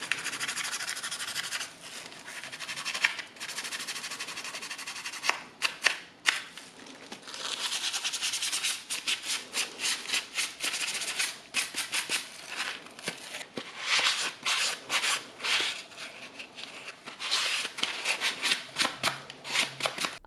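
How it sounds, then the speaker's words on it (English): Repeated scratchy rubbing strokes of sanding plastic doll pieces, irregular bursts of abrasive friction close up, pausing briefly between passes. "it was time to give each piece a good sanding treatment."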